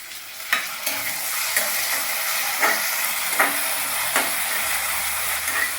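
Two medium tomatoes go into a frying bitter gourd palya, and a constant close sizzle and hiss carries on under a handful of sharp spoon knocks as it is stirred.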